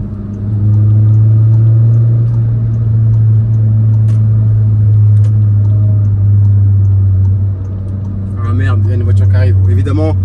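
A Volkswagen car accelerating gently on a small country road gives a steady, loud, low engine drone that holds throughout, with a voice speaking briefly near the end.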